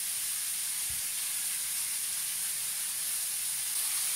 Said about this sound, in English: it's a loud sizzle